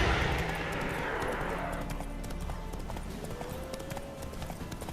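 The horse Roach walks slowly in The Witcher 3, hooves clip-clopping in a steady rhythm over ambient game sound, fairly near and moderately loud.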